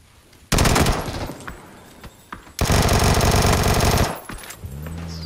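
Automatic gunfire in the video game PUBG, two loud sustained bursts of rapid shots, the second longer, close and harsh, with quieter gaps between them.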